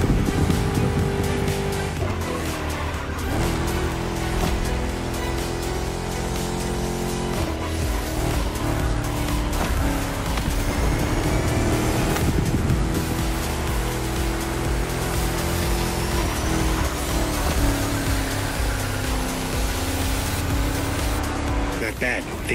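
Chrysler 300 SRT8 Liberty Walker Edition with a V8 Hemi engine, racing in The Crew Motorfest, roaring continuously at high revs with gear shifts and tire squeal, loud and close, with a voice speaking over it at times.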